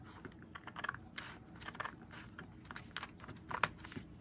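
Scissors snipping through paper during a scrapbooking session, a run of short, soft crisp cuts at close range, repeated in quick bursts with a sharper snip near the end.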